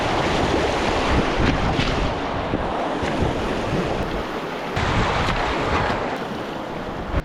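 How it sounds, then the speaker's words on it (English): Wind blows down a mountain canyon in the northern Rocky Mountains, a loud continuous rushing roar with gusty swells and dips, no voices heard. "the air is just blowing down past us"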